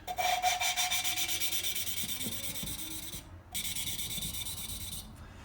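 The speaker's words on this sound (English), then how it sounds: "hear it increase in pitch, and that's the grit in the compound breaking down" Gritty rhythmic rasping and rubbing as a Yamaha Virago engine valve is lapped against its seat with grinding compound, pitch rising as the grit breaks down, back-and-forth strokes with a brief pause midway.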